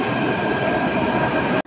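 Steady rumbling roar of a Delhi metro train in motion, loud and continuous, cutting off abruptly near the end.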